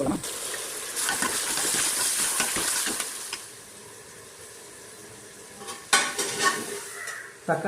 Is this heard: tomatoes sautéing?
yes